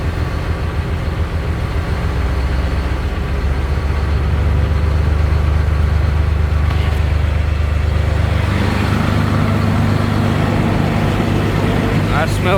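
An auction car with its check engine light on and a coolant smell idles steadily and loudly up close, a continuous low rumble that shifts slightly partway through, with a voice talking briefly over it.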